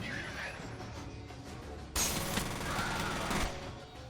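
Submachine gun fire modeled on an MP5 in the first-person shooter F.E.A.R., a loud sustained burst with crashing impacts that starts abruptly midway and dies off near the end, following quieter game ambience.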